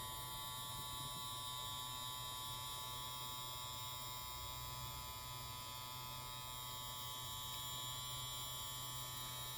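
A quiet tattoo machine runs nonstop with a faint, even electric buzz and fine high whine, steady and unbroken, with no talking.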